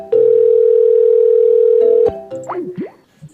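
A telephone line gives a single steady, loud dial tone for about two seconds, then cuts off into short warbling electronic chirps and faint noise.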